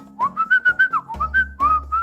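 A person whistling a quick run of short, rising and falling notes meant to imitate birds chattering, loud and close with no talk over it.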